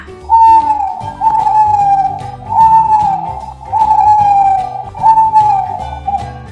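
An owl hoots five times in slow, evenly spaced, drawn-out calls, each a clear sustained tone, over quiet background music.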